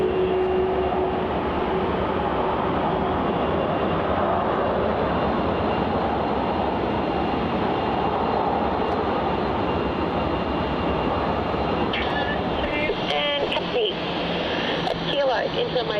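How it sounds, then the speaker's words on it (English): A Rex Saab 340 turboprop arrives on runway 34 at Melbourne Airport at sunrise, a broad, steady engine roar holding for the whole stretch while voices chatter faintly near the end. "it's going to be the Rex Saab 340 coming in from Mildura"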